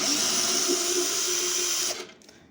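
A power drill whirs steadily while backing out a cover screw on a Mondial MG100 motorcycle, a continuous high motor whine that stops abruptly near the end.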